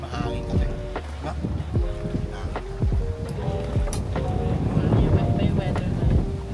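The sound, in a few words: strong wind on a boat at sea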